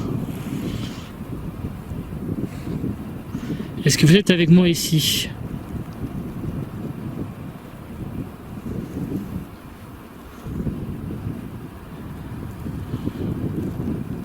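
Gusting wind buffets the microphone in a constant low roar, swelling and easing, with a person speaking briefly partway through.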